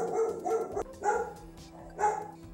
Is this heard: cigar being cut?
no